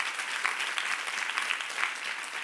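A congregation at a youth church service applauding, dense steady clapping from many hands filling the room evenly at moderate loudness, continuous without pause or voices on top.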